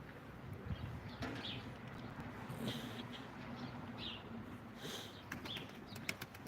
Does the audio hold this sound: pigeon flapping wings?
yes